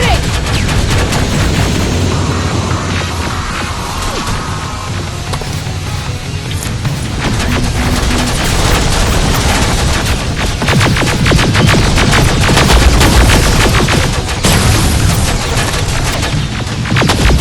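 Heavy, sustained gunfire from the video game Terminator: Resistance, with dense bursts and booming shots rolling loudly and continuously across the whole stretch, crowding everything else.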